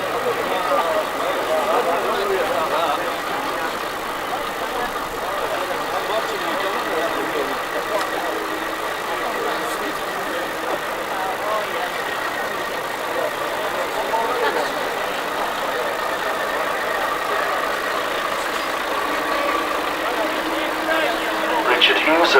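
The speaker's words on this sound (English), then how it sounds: "And another Volvo, an F1220, shown there as a tractor unit." A Volvo F12 tractor unit idles steadily at a road run event, a continuous mid-pitched diesel rumble with faint voices and outdoor background underneath.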